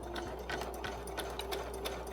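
A sewing machine runs steadily stitching a straight seam, with a rapid even mechanical chatter and motor hum, close up and with no talk.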